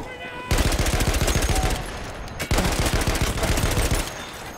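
A heavy sentry gun fires long rapid bursts in Battlefield 1, a loud, fast, hammering rattle close by, with one brief break before the next burst and a short quiet lead-in.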